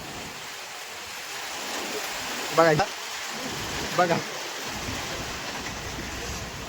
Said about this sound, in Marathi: पावसाची संततधार हे सुरूच असल्याचं दिसून येते बघा कसा पडत आहे